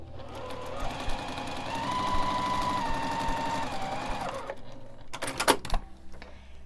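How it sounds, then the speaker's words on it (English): A sewing machine stitches quilt fabric along a line with a steady, fast mechanical whir of needle strokes close by for several seconds, then slows and stops, followed by a few clacks and rattles of the machine. "I'm going to be sewing right along that line."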